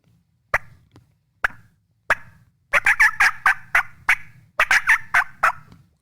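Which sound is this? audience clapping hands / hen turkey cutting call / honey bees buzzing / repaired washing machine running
hen turkey cutting call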